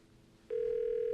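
A telephone on a studio line starts a steady, loud electronic ring tone after a brief quiet moment, holding one sustained pitch to the end.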